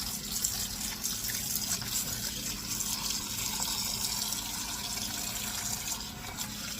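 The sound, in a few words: filling a bowl with tap water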